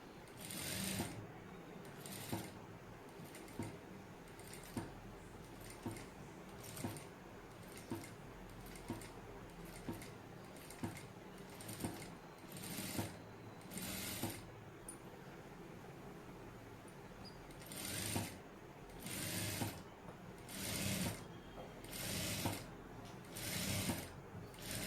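A sewing machine stitches piping onto a garment in short, regular bursts of whirring needle action, each a second or two long with brief pauses between, sounding close and steady.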